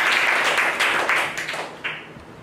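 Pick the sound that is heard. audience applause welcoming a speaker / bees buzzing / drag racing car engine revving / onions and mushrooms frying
audience applause welcoming a speaker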